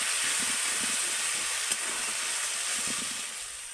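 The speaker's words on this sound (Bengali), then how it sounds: "এবার আমি মশলাটাকে খুব ভালো করে কষিয়ে নেব।" Spice masala with chilli, cumin and coriander powders fries in oil while cooking jackfruit curry, a steady bright sizzle with soft stirring scrapes underneath, close and continuous.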